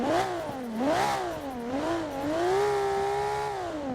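An RB26 2.6-litre twin-turbo inline-six car engine in the racing game Forza 5 revs up and down repeatedly, its loud, close pitch swinging in waves with no talking.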